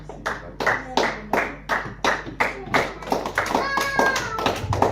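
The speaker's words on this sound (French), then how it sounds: "Donnons un peu d'acclamation à notre Seigneur." Rhythmic group clapping at a Christian church gathering in Chartres, a run of loud, evenly spaced hand claps close by with voices mixed in and a voice audible.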